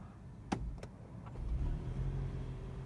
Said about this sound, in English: You can just hear the engine cutting in to heat us up.